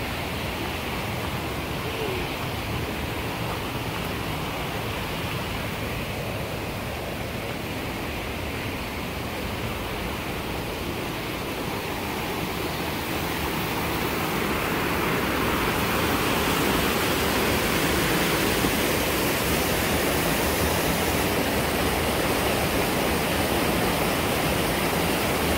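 Loud, steady rush of spring water at Saunders Spring along a trail, a continuous broadband roar that swells slightly louder partway through, with no voices.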